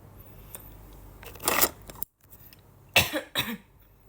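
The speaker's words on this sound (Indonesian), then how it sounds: "Duh, batuk mulu." Two bursts of coughing, the first a harsh rasp, then after a brief silence two more quick coughs close to the microphone.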